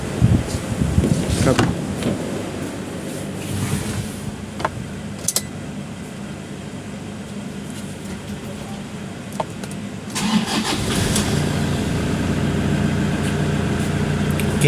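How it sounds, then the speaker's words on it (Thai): A Toyota Vigo pickup with a shorted, burnt alternator diode is started and left idling, a steady low engine rumble that rises in the second half, with a few clicks and someone talking over it. "เดี๋ยวเราจะไปลองติดเครื่องดู"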